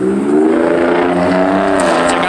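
A very loud car passes on a cold evening street, its engine roar steady and close throughout, with a broad rumbling drone and no talking.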